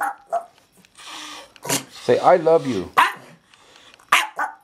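A dog gives several short barks and a longer, wavering howl-like vocalization between them, loud and close, while a person talks to it in between.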